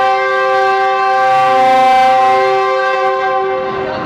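A GU20 locomotive sounds a loud, sustained departure whistle at Lahore Junction, one steady harmonic blast lasting several seconds, close and alone.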